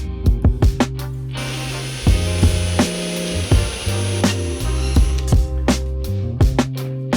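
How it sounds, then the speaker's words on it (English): A power drill bores a pilot hole in wood for a reptile enclosure, its steady motor whine holding for several seconds between sharp knocks and handling clatter before and after, loud and close. "I'm gonna have to try and drill as straight as possible"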